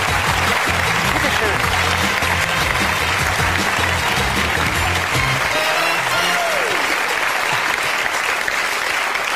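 A studio audience at a German TV talk show gives loud, steady applause to welcome Kurt Beck, Minister-President of Rhineland-Palatinate. Dense clapping fills the whole stretch, with some voices mixed in.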